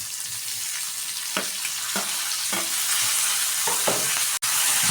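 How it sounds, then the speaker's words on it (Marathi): Tomatoes being sautéed with roasted green chillies in a pan give a soft, steady sizzle, broken by several short scraping stirs of a spoon, close and moderately loud with no talking. "परतून घेऊया मिरचीसोबत थोडंसं"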